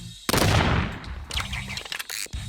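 M1 gun firing in a video game: a dense, loud burst of gunfire followed by several sharper single shots and clattering mechanical sounds, close and without speech.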